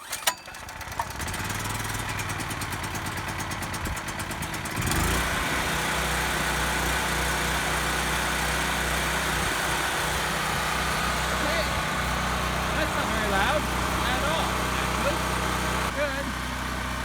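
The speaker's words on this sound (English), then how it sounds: "First start of the Firman generator." A Firman 3550 portable generator makes its first cold start: a pull and brief sputter, then a steady, loud engine drone that settles into continuous running, with someone talking over it.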